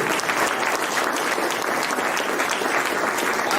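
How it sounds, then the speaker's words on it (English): An audience at a Nation of Islam gathering breaks into sustained, full applause, a thick wash of clapping that stays steady and fairly loud without any voice over it. "Give yourself again a round of applause for being here."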